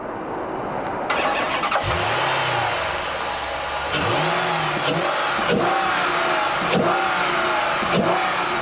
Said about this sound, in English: Tromp the loud pedal and the SRT takes off in a serious hurry.